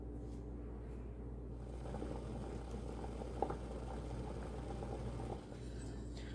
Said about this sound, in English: we are going to leave it sit for about 10 minutes at a steady boil